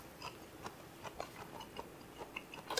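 Someone chews a bite of lean steak, soft moist squishes and clicks repeating at an uneven rhythm, faint and close with no talking.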